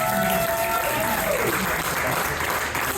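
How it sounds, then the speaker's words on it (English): Audience applause at a comedy roast battle show, a dense burst of clapping from a crowd, loud and sustained, with a voice briefly audible at the start. "Give another round of applause"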